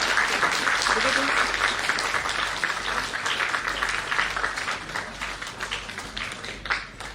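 A business school induction programme audience keeps up a steady round of applause, fairly dense and even, slowly tapering with a few distinct claps near the end and some talk beneath.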